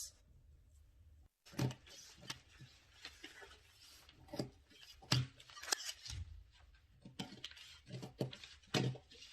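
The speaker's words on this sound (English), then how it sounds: "Now we are going to cut the back of it." Scissors cut fabric for the back of a bustier blouse in a series of close, uneven snips and crisp slices, separated by short pauses and faint rustling of cloth.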